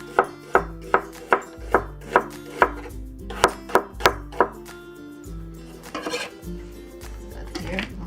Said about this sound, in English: let's slice the onions